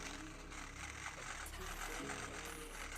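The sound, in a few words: Klixer dreadlock machine moving back and forth in hair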